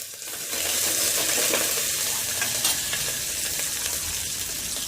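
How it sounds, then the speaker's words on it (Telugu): Curry leaves and tempering spices sizzle and crackle in hot oil, a close, loud, continuous frying hiss with scattered pops for several seconds, no talk. "ఇలా చిటపట అయిన తర్వాత కరివేపాకు పచ్చి వేసుకోవాలి"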